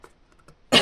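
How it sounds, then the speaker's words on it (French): A single loud, close cough from a woman bursts out after a few soft breaths and mouth noises. "c'est très rare que je tousse"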